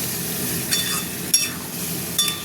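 Spice paste for a ridge gourd, potato and prawn curry frying in a pan, a steady broad sizzle with three brief scraping stirs of a spoon, close and without voices.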